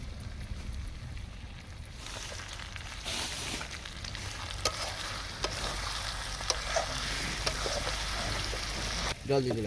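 Meat and potatoes sauté in oil in a pan, steady sizzling and frying with scraping stirs and occasional clatters, fairly close, outdoors by a pond.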